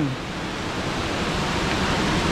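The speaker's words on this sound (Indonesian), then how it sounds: "air terjun Jumok di Desa Berjo Kecamatan Ngargoyoso" Jumog waterfall in Berjo village, Ngargoyoso, Karanganyar, gives a steady broadband roar of falling water, close and continuous with no voices.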